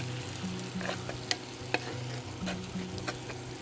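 Wine hits a hot pan after searing steak, lifting the crust with a steady close sizzle, a couple of sharp metallic ticks and a faint low hum underneath, with no talking.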